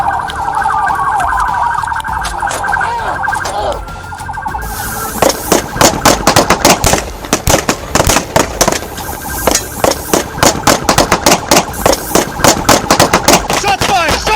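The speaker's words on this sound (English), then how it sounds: "a fierce gunfight between both sides erupted instantly" Rapid bursts of gunfire crack out during a police shootout after a highway chase, loud and close, following a stretch of wailing siren and engine noise; dozens of sharp shots come in quick uneven volleys.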